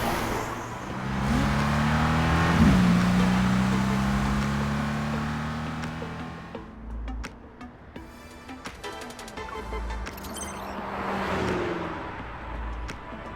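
Race cars accelerating in a video game at a nighttime street race, a loud engine rising in pitch and fading as it passes, then a second car surging up near the end.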